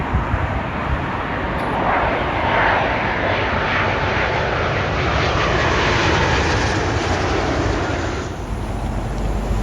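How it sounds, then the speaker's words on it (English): A Boeing 777-200 airliner at Heathrow runs its jet engines in a loud, broad, continuous roar that holds steady and swells slightly in the middle, heard alone with no talking. "Airlines 777-200"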